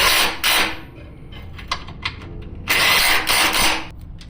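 A driveshaft being bolted back into a 5.3-swapped S10 Blazer, with bursts of ratcheting wrench or power tool alternating with short mechanical clicks, loud and close.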